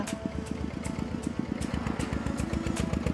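A tractor engine chugs steadily at close range, its low, even putter carrying on without a break and no voices over it.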